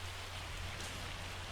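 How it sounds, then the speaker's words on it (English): Steady rain in the Farming Simulator 25 game falls as a soft, even wash of noise with a low rumble underneath, constant and fairly faint throughout. "while this rain's happening"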